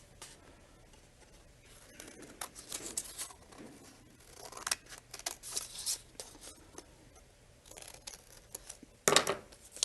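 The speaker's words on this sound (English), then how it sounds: "I'm just going to cut out a window out of the middle." Scissors cut a window out of the middle of a folded sheet of paper, producing quiet, close, irregular snips and paper rustles with a sharper crunch near the end.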